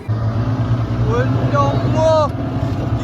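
A fishing boat engine drones steadily and low at sea on a deep-sea tuna fishing trip off Neerody. Someone talks over the constant hum throughout.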